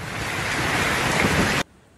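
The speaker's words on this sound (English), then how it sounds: "It's raining bad outside." Heavy rain pours outside as a dense, steady hiss at fairly loud level, close by, then cuts off abruptly near the end.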